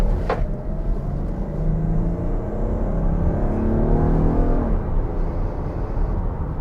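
A 2022 Kia Carnival minivan with a 290-horsepower engine accelerating, heard from inside as a steady low rumble with rising engine tones climbing through the gears.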